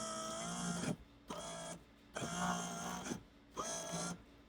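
A Corvette power window motor runs in repeated bursts during a test, a whirring electric drone that starts and stops four times with short gaps of quiet between.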